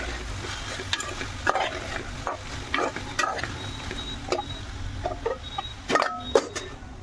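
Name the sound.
okra frying and being stirred in a pan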